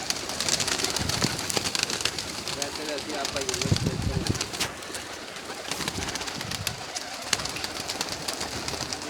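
Pigeons cooing nearby amid other bird calls, while someone talks over them.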